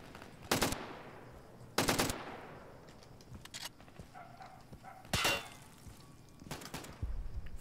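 Gunfire in the video game Insurgency: a few sharp, loud shots spaced a second or more apart, each with a fading echoing tail, and quieter distant pops and clatter in between.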